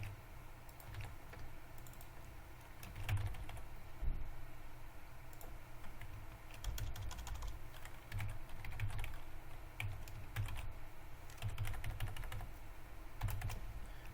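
Typing on a computer keyboard, faint and fairly distant, with a continuous stream of light clicky keystrokes in uneven bursts and no talking.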